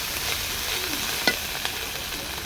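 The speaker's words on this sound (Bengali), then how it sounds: "তাই মশলাটাকে হালকা ভেজে নেব।" Ginger, cumin and garlic paste frying lightly in a pan, a steady soft sizzle with a few sharp spatula scrapes and clicks, close by and uninterrupted by voices.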